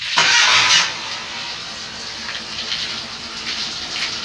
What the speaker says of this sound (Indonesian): Nanti kita nyalakan mesinnya.